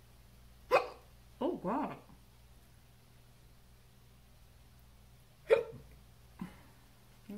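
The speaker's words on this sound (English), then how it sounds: "I got the hiccups." Several short hiccups from a woman, spaced irregularly with long quiet gaps between them, close and fairly soft, and she mutters briefly once.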